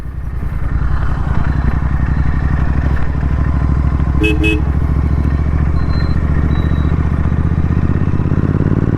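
Royal Enfield GT650 motorcycle engine pulling steadily while riding on a Sunday run, a loud continuous throb with a short horn-like toot midway and no talking.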